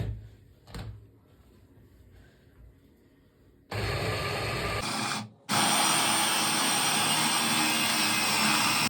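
An electric blender whirs through cottage cheese and banana for a crepe filling. After a quiet start with a few faint knocks, it roars loudly, breaks off for a moment and then runs on.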